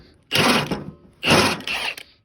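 Ratchet turning out a bolt on a lawnmower CVT transaxle, two short close bursts of rapid metallic clicking separated by a pause, with no voices.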